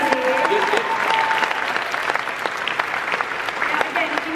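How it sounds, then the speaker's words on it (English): A large crowd applauds new cast members at a Comic Con 2016 panel for DC's Legends of Tomorrow, with continuous loud clapping, scattered cheers and a few voices mixed into the roar. "let's get another big round of applause for our 2 new cast members, Nick and Maisie."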